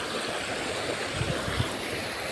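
A shallow river stream flowing steadily, a continuous close rushing of water with no voices.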